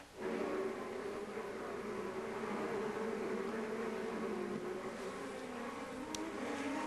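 IndyCar engines at the Honda Indy Toronto street race, a steady distant buzzing drone of cars circling the road course, fairly faint and continuous with no talk.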